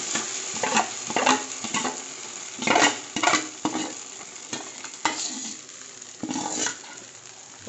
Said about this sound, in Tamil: ஊற்றினதுக்கப்புறம் இதை கைவிடாமல் கிண்டிக்கிட்டே இருக்கணும்